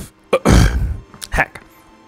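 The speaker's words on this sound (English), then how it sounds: "Cough." A single rough cough with a throaty grunt in Mario + Rabbids Sparks of Hope, close and loud, followed by a couple of short vocal sounds.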